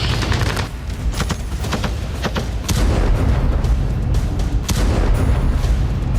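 Artillery bombardment and explosions during the Russian attack on Kyiv in the Russia–Ukraine war, heard as a dense, continuous rumble punctuated by repeated sharp blasts and bursts of gunfire, loud and sustained throughout.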